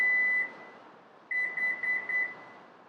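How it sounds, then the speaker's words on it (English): A Lexus NX power liftgate gives one long electronic beep, then after a pause four short, evenly spaced beeps confirming the height reset, clear and close with no talking. "push and hold until you hear the 4 beeps"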